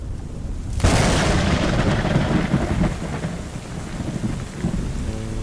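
Heavy rain pours steadily during a hike in Austria, broken by a loud rolling crack of thunder that rumbles on for several seconds before fading back into the constant downpour.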